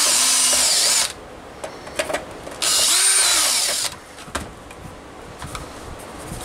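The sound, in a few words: drilling completely through a hole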